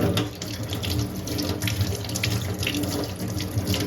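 Water tap running steadily into a sink while a child's hands are washed, a close, continuous splashing stream.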